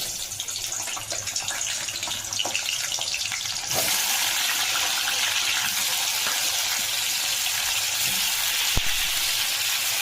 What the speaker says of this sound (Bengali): এবারে আমি দেখো পেঁপে নিয়েছি বড় বড় করে কেটে, আলু নিয়েছি, এটাকে ভাজবো।